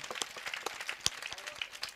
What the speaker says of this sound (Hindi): पूरे सदन की ताली यहाँ बजनी चाहिए